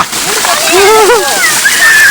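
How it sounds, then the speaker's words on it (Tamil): Water is poured and splashes onto a child outdoors in a village setting, a continuous sloshing spray. Lively voices talk and shout over the splashing the whole time. "ஊத்துறா ஊத்துறா அவன் மேலே ஊத்துறா ஊத்துறா"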